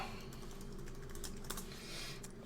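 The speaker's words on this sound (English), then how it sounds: "type the password in right, because typing the password in wrong doesn't work" A password is typed on a computer keyboard while logging into a Linux server, with rapid, steady key clicks close up and no talk.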